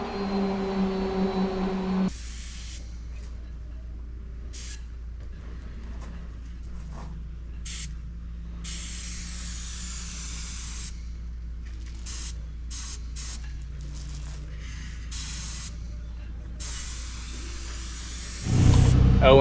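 A paint spray gun, borrowed and better than a cheap one, hisses in long steady bursts with brief pauses while spraying a boat in a workshop; the hiss runs continuously near the microphone with a low compressor-like rumble underneath.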